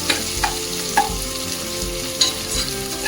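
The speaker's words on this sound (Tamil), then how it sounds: "ஒரு 3-4 வெங்காயம் நல்லா கட் பண்ணி நீட்டாக இதில் போட்டு நல்லா வதக்கிக்கோங்க." Sliced onions sautéing in a pan for vegetable biryani, with a steady close frying sizzle and a few sharp scrape or stir clicks spread across it, no talk.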